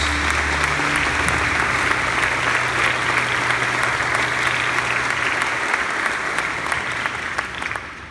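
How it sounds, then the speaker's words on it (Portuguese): A church congregation at the opening Mass of a Catholic gathering applauds, loud sustained clapping from a large crowd with faint low tones early on, tapering slightly at the close. "Vamos aplaudir a palavra de Deus."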